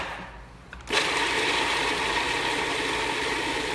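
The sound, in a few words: food processor blending potato and onions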